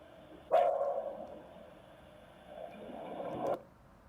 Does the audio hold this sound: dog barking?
yes